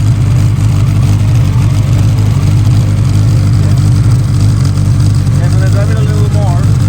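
A started-up car engine runs steadily with a deep, constant rumble throughout, loud and close, while people talk over it.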